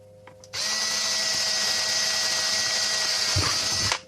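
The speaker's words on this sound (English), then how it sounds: "you're actually going to drill from the outside of the shell" A power drill bores through the outside of a plastic game controller shell, whining loudly and steadily for about three and a half seconds before stopping, with a brief grinding bump near the end and no speech.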